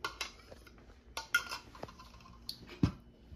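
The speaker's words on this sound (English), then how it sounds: "I'm going to add the chocolate chips and the pecans. I'm going to mix this in." A spoon stirs scone dough with chocolate chips and pecans in a bowl, giving scattered clinks and scrapes against the bowl with one firmer knock near the end. The sound is quiet and close.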